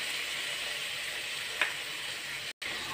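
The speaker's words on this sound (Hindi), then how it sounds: "देखिए बहुत अच्छी तरह से भून गया है।" Sahjan drumsticks fry in a pan with a steady, close sizzle throughout, broken by a brief stir or clink and a short drop near the end, with no voices.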